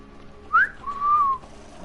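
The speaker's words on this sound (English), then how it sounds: "He's whistling." A man whistling in the video game The Witcher 3, a short two-note whistle, a quick rising chirp followed by a longer smooth tone, clear and close in a quiet setting.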